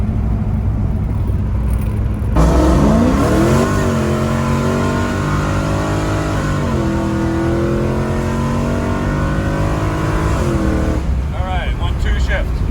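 A 1999 Pontiac WS6 with an LS1 V8 accelerates hard through the 1-2 shift, its engine note rising in pitch, dropping at the shift, then climbing loud again, with voices over the roar.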